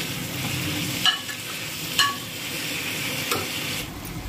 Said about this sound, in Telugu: ఉల్లిపాయ పచ్చిమిర్చి వేసిన ఆయిల్లోనే ఇది కూడా కొద్దిగా కలుపుకోవాలి